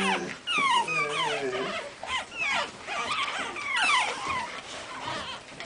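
High, wavering whimpers and whines from several five-week-old pug puppies, close and continuous, with small yips mixed in.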